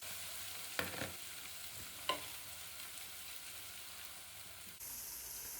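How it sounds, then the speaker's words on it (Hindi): Garlic ginger paste frying with golden onions in a pan for a chicken chana karahi, a faint steady sizzle broken by two sharp stirring scrapes. "अब हम इसमें डालेंगे 2 चम्मच लहसुन अदरक का पेस्ट। हल्का सा फ्राई करेंगे।"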